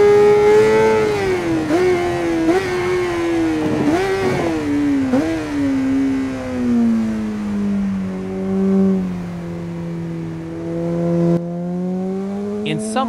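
Honda CBR 600RR 2018 sport bike engine in the racing game Ride 5, a steady high-pitched whine dropping gradually in revs, with brief throttle blips and gear shifts early on, heard alone and close.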